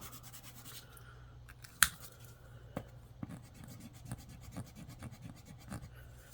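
Quiet, close scratching of a Pilot FriXion erasable fineliner marker drawing on paper, with soft irregular strokes and a few sharper ticks of the tip against the page.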